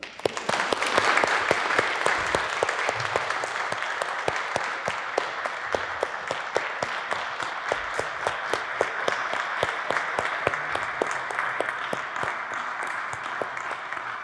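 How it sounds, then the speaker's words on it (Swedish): A church congregation applauds newly ordained deacons at a Swedish cathedral ordination mass, steady dense clapping that fills the hall and holds at an even level for the whole stretch, with no voices over it. "En applåd tycker jag vi ger dem."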